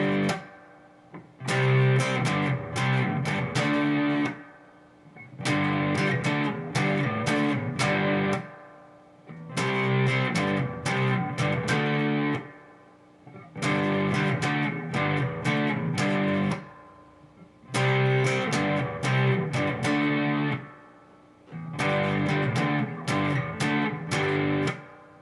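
Distorted electric guitar plays a full second verse at full speed, in repeating bursts of choppy chord strumming separated by brief pauses, close and loud with no talking.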